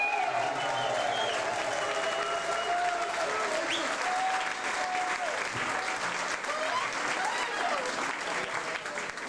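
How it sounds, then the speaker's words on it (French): A concert crowd claps for a musician, continuous applause at a steady level for about nine seconds, with sustained musical tones and voices faintly running beneath it. "applaudis"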